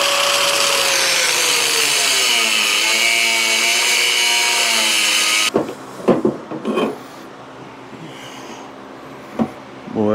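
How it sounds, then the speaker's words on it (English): A power grinder cuts a piece off a metal bucket part, a loud steady whine that shifts pitch as the disc bites, then stops abruptly midway, leaving scattered clanks and handling knocks. "I'm going to grind this off real quick"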